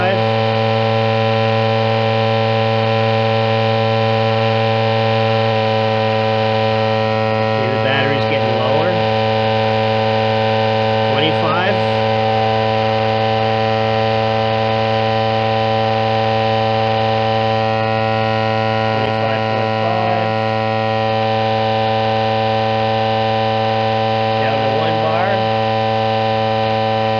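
A Jansno x50 v2 electric mini bike pump drones steadily for a long stretch while inflating a tire, with a strong constant motor hum; brief voice-like bursts break in occasionally over it.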